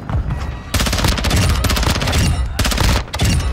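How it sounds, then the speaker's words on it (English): Loud shotgun blasts fired into the air in Modern Warfare 2, several booming shots in close succession amid game noise, with little or no talk. "Shooting a shotgun in the air."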